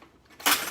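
A single bright metal clink of a tasting spoon against a dish, short and close, after a quiet moment.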